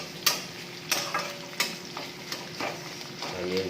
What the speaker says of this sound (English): Now we'll mix the onions evenly in this pan